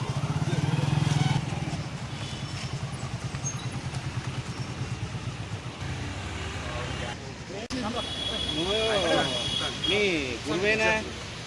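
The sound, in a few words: motorcycles on a bike rally in Telangana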